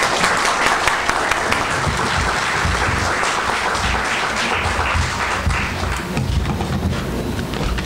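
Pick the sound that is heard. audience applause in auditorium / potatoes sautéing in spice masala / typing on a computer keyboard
audience applause in auditorium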